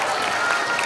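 Dense applause from an audience at a students' debate competition event, a brief continuous wash of many hands clapping together.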